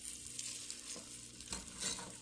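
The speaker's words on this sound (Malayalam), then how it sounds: "ഇനി ഇത് നന്നായിട്ടൊന്ന് മിക്സ് ചെയ്തെടുക്കാം." A spoon stirs fried cashews and curry leaves into cooked rice and dal for ven pongal, making soft scraping, mushy stirring strokes with a light sizzle beneath, close and quiet, with a few stronger strokes near the end.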